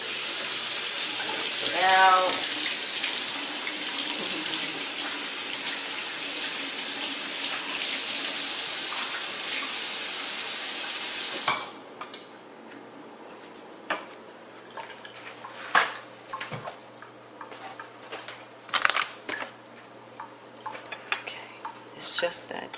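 Water from a kitchen sink tap runs steadily while a reusable K-cup for a Keurig coffee maker is rinsed, then stops, leaving scattered clinks and plastic handling sounds with a brief spoken word.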